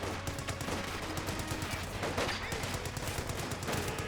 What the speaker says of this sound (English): M1919 is firing away.